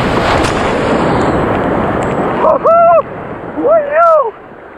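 Powerful ocean waves roar and crash in a steady wash of loud surf, with excited voices shouting twice over the water noise near the end.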